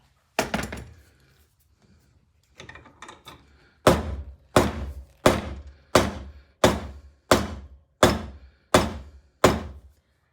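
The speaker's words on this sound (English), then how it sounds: "I'm going to get a little better mallet, maybe even a hammer." A hammer strikes wood and metal repeatedly with sharp, loud thunks, a few scattered blows then a steady rhythmic series of about nine evenly spaced hits.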